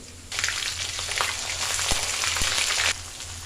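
Dried chili paste hits hot oil with a sudden loud sizzle while cooking spicy braised meat, the frying hiss holding steady for a couple of seconds before it abruptly drops away.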